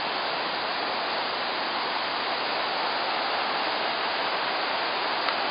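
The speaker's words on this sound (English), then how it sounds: "Water." Waterfall at Krka Falls near Sibenik, Croatia, a loud, steady broadband roar of rushing water that stays constant for the whole stretch with no other sounds over it.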